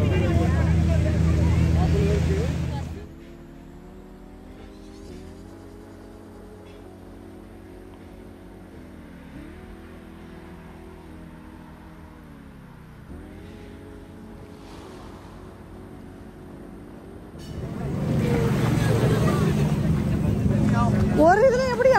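A speedboat rides across open water near Fujairah, with loud engine and wind rush at the start and end and a steadier, quieter motor drone in the middle.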